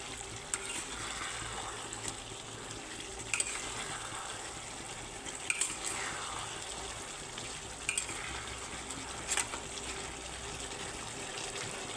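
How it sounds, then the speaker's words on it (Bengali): Broiler chicken masala with potatoes fries in a pan, a soft steady sizzle close by with occasional clicks and scrapes of stirring, quiet and without speech. "এবারে আলু দিয়ে আরও দু মিনিট কষিয়ে নিচ্ছি"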